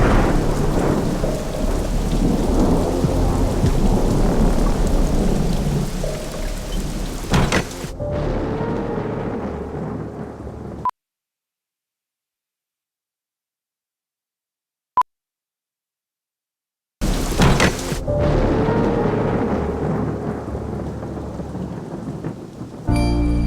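Heavy rain pours steadily outdoors with rolling thunder, a loud dense wash that cuts to near silence midway, then the downpour resumes just as strongly.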